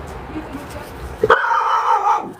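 A neighbor's dog barks once nearby, then lets out a sustained whine or howl that trails on for about a second, following a stretch of quiet background noise.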